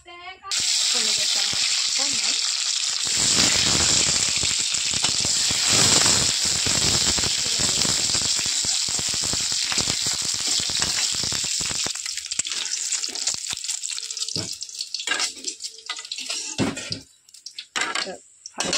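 Oil sizzles and hisses loudly in a pan for cabbage curry, a steady bright crackle that runs close and continuous, fading to scattered spits near the end while a voice talks over it.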